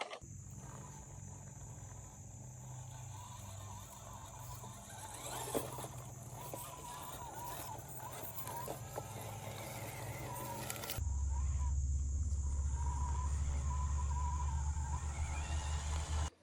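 A special-edition RC truck climbs a hill in high gear, its electric motor whining steadily with a rising rumble as it gains speed, close and loud, with no talk over it.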